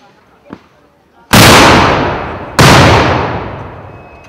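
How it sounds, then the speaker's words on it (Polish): Two loud, sharp gunshot blasts a little over a second apart, each with a long rolling echo, fired as a warning at a historical battle reenactment at a fortress in Kłodzko; a faint earlier pop precedes them. "Strzał alarmowy."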